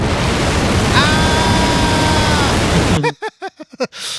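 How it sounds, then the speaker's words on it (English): A recorded rocket engine roars as a loud, broad, steady hiss like pink noise, with faint whistling tones inside it, then cuts off abruptly as a person starts talking. "a whole bunch of rocket engine sounds, which basically just sound like a load of pink noise, but are just so massive"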